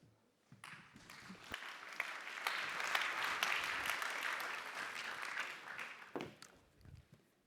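Audience applause for a moderator at a business forum on the global economy, a moderate burst of clapping that swells, holds steady for several seconds and then thins out toward the end, fairly quiet overall.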